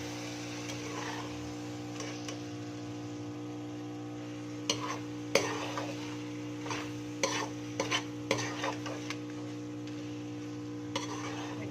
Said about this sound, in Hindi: अच्छे से हमने मिक्स करना है।